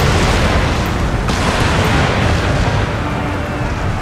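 A continuous rumbling roar of cannon fire in an Empire: Total War battle, loud and dense throughout with no clear separate shots, like booming blasts blurred together.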